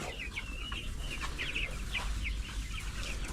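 Dekalb White chickens cluck and chirp in a coop, with soft scattered calls over a low background hum.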